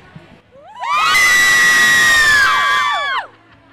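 A crowd of children screams together in a loud, sustained burst of high-pitched shrieks lasting a couple of seconds, then fades out.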